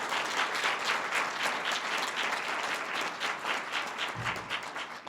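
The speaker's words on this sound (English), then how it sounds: "So we really owe Joaquin another round of applause." Sustained applause from an audience at a North Carolina Justice Center event on House Bill 2 and Charlotte's LGBT ordinance, steady dense clapping throughout at moderate distance, with no talk over it.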